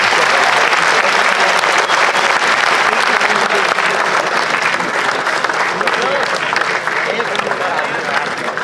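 Sustained audience applause welcoming guests at a book launch event, loud and dense clapping filling the whole stretch with crowd noise beneath.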